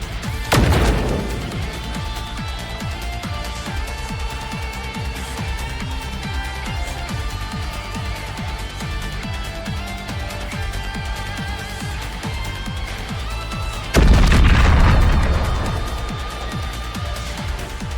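A bomb goes off in Goddess of Victory: NIKKE, with a sharp crash near the start and a second loud blast later, both set against a continuous musical game score.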